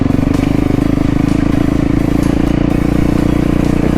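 A dirt bike pounding over rough, bumpy off-road terrain, its engine a loud, close, steady drone with rattling and clattering layered through it the whole way.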